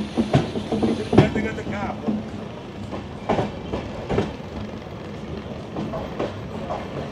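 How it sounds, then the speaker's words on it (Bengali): Khulna–Kolkata Bandhan Express leaving platform seven at Bandel Junction, close and loud, with rhythmic wheel clacks and rattling carriages over a steady rolling rumble. "আমাদের ট্রেন ছেড়ে দিল ব্যান্ডেল জংশন"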